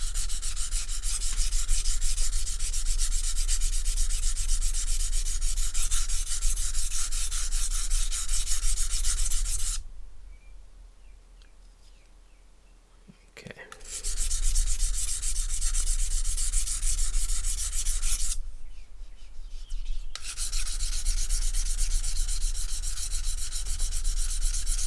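Martha Stewart kitchen knife blade stroked across a Sharpening Pro 320 whetstone, steady abrasive scraping in two long bursts separated by a quiet gap and a short pause, close and loud, no voices.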